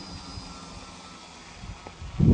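A Crius AIO Pro quadcopter's motors spin up for takeoff, a faint steady whine and hum that rises into a louder, gusty buzz at the end as it lifts off.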